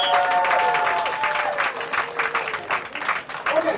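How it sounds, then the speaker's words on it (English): A crowd at a youth nonviolence summit gives a round of applause for an honoree, the clapping sustained and fairly close, with some voices and tones mixed in. "Y'all give a round of applause to LaShannon."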